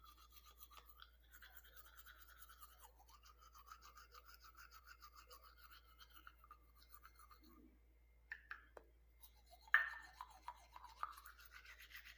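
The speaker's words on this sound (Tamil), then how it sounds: "இப்போ நான் விளக்கிட்டு காமிக்கிறேன் பாருங்கள்" Teeth being brushed with a homemade salt and ginger paste, a faint, close, steady scrubbing rasp that pauses briefly and then resumes with a few sharper strokes near the end.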